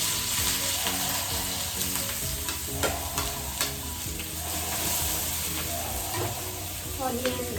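Onion, garlic and green chili sizzling in hot ghee for yellow dal fry, a steady loud frying hiss with clinks and scrapes of stirring throughout, close up.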